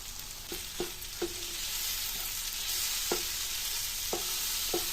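Egg bhujia with onion fries in a pan under a bright, steady sizzle while a spatula scrapes and knocks through it at irregular intervals, close and clear, with no talking.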